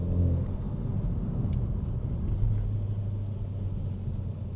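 A Renault Megane R.S. 280 hot hatch accelerates with a steady low exhaust rumble heard from inside the car, rising slightly, alone without talk.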